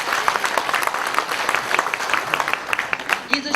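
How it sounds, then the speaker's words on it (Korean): A seminar audience applauds, a dense spatter of many hands clapping at moderate loudness, with a voice coming in over the clapping near the end. "이분들한테 큰 박수를 좀 보내주세요."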